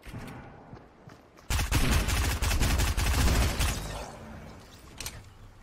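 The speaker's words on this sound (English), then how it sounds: "Oh, they're shooting at us." Dense burst of rapid gunfire in the video game Fortnite, loud and close, a sustained volley of overlapping shots lasting a few seconds before tapering off into quieter background.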